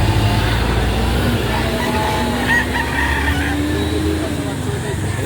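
Chickens at a Saturday poultry market in Lipa City, Batangas, making steady clucking and fowl calls over constant crowd and market noise, with people talking nearby throughout.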